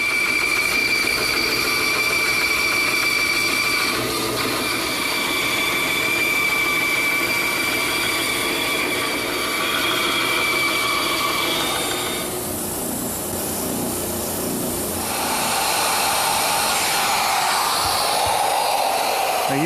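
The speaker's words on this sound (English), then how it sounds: "using a small round over bit, I've just run an edge around the top of the arm" A router fitted with a small round-over bit runs along the top edge of a wooden corner chair arm, a steady high whine held close and loud for most of the time, easing briefly before resuming.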